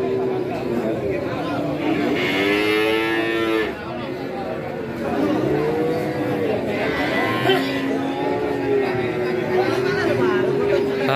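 Limousin bull calves at a livestock market, with low moos and lowing calls rising and falling over constant crowd chatter and people talking nearby.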